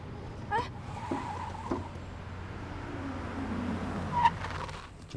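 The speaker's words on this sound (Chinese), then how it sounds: "这车好像出问题了" A car with a fault keeps running, its low engine hum droning steadily, with a few faint knocks and a louder clunk near the end.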